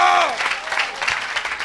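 A church congregation claps in a short burst of crowd applause, and a voice can be heard at the very start.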